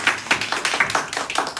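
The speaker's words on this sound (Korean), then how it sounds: "우리 수정쌤 박수 한번 주시죠." A church congregation at a Sunday youth service claps in unison, a quick, close run of about a dozen sharp, evenly spaced handclaps in a steady rhythm.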